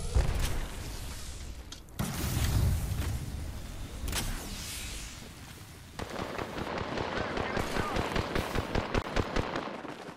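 A grenade explodes in Apex Legends amid gunfire, with sharp booms and crackling blasts followed by a rapid, rhythmic burst of shots, loud and close over game noise.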